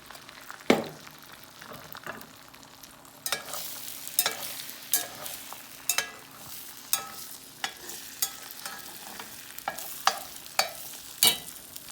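Eggs scrambling in about two teaspoons of bacon fat in a pan, with a steady soft sizzle broken by sharp scraping clicks of a utensil stirring at a fairly regular pace, close and moderately quiet.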